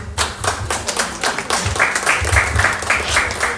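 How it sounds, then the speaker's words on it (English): Lively applause at a softball association opening ceremony, with near, distinct hand claps blending into a crowd clapping, some rhythmic patting, loud and close. "Big round of applause, please."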